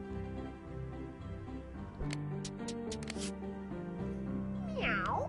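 A cat meowing sound effect from an animal sounds app plays over a busy background, with a short rising meow near the end after a few faint clicks.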